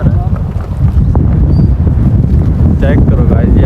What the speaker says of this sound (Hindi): इतनी ज़्यादा हवा है, काफ़ी तेज़ हवा चल रही है